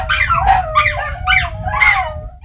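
Several dogs bark, yip and whimper up close in rapid, overlapping bursts as they are rescued from an animal hoarding house, with a steady low rumble underneath.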